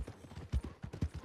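Horse hooves clip-clop in a steady trotting rhythm, moderately close, with no other prominent sounds, in the video game Red Dead Redemption 2.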